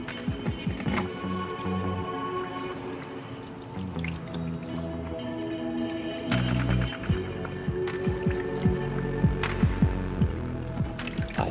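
Water rinses gold-bearing concentrates through a bucket sluice. Continuous trickling and dripping liquid carries on throughout, with irregular splashes and some tonal ringing, and there is no speech.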